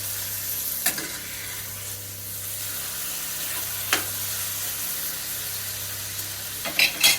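Lamb mince sizzles steadily in a hot pan, a constant crackling hiss with a low hum underneath and a few sharp scrapes or taps from stirring.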